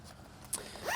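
A zipper on an Aer Lunar Pack backpack is pulled in one short, quick zip near the mic, followed by a brief scratchy second pull, with no talk.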